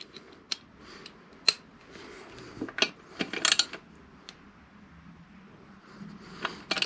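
Short, faint clicks and metallic ticks come from a ratchet tightening the drain plug on a Yamaha MT-01 motorcycle during an oil change. They arrive in scattered bursts with quiet gaps between them.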